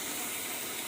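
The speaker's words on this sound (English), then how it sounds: "The sizzle is a wonderful sound." Country gravy sizzling steadily in a pan on a home stove, a loud continuous hiss with no voices.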